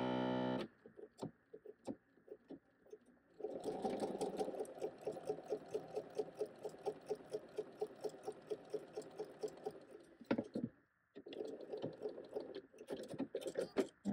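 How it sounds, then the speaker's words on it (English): Sewing machine stitching pieced quilting fabric at a quarter-inch seam, a close, steady rapid run of needle strikes with a short pause near the end before stitching resumes. "I'm going to go over to the sewing machine and sew this in"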